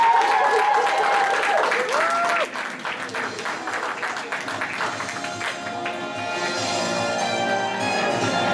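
Audience applause at an anime convention game show, a dense crowd clapping loudly for about two and a half seconds, then continuing more softly with some voices and cheering mixed in.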